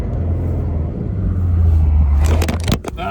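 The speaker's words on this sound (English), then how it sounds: "Car sounds good." Convertible with a 6-speed manual driving with the top down, a steady low engine rumble with road noise building, then a few scraping and crackling knocks near the end.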